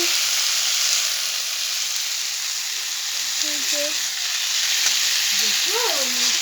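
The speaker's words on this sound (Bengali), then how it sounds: "শাক ভাজি বেগুন দিয়ে ভাজছি।" Greens and eggplant fry in a hot pan, a loud continuous sizzle up close, with a few faint background tones.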